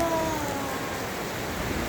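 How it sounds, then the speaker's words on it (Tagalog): Steady rain falls as a soft, even hiss, fairly faint and continuous, with no voices over it. "umuulan pa naman, ayan, umuulan."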